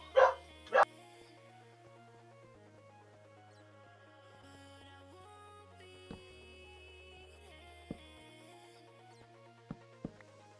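Two sharp dog barks from a Minecraft dog ring out close together at the very start, loud over steady in-game background music, then only the music continues with a few faint clicks.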